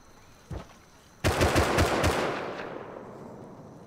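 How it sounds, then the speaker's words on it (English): Rapid burst of automatic weapon fire in the Rust survival game, a single shot first then a loud run of about six quick reports with a ringing tail fading out, no talk. "Automatic weapons"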